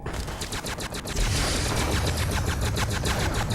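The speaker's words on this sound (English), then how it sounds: "Am I getting sniped or what?" Gunfire in the video game Fallout: New Vegas, a dense run of rapid, evenly spaced shots that turns into a loud, continuous, heavy barrage with no speech over it.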